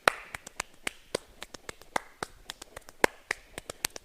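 Sharp hand claps beat out a syncopated rhythm pattern during a percussion stretch exercise, roughly a dozen crisp, close hits in an uneven, repeating groove.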